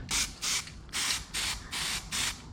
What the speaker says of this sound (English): We're ready for a little spraying.